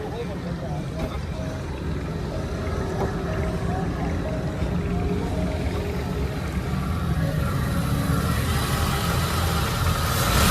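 A low, steady Toyota Hiace Grand Cabin van engine idle rumbles nearby throughout, with people talking over it in Hindi or Urdu.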